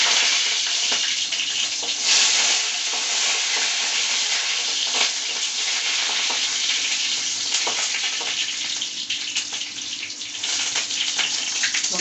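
Curry leaves sizzle in hot oil while being tempered for a broccoli curry, a steady, loud crackling fry that continues for several seconds with no talk.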